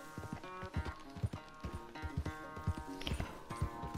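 Horse hooves clip-clop at a brisk, steady rhythm during riding in Red Dead Redemption 2, close and distinct, with a brief whinny-like burst near the end.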